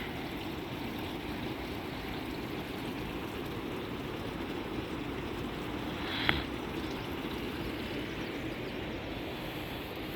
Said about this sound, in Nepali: खोलाको आवाज आइरह।